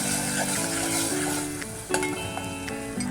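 Oil sizzles and crackles steadily in a hot pan as spices and dried red chilli fry in a tempering, with occasional scrapes and clinks of a spoon stirring.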